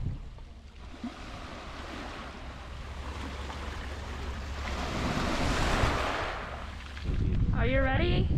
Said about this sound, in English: enjoy hearing waves crashing on the pebbles near the port